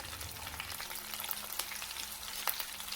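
Curry leaves, chopped onion, cumin and mustard seed fry in hot oil for a cabbage dish, giving a steady close crackling sizzle with sharper pops now and then and no talking.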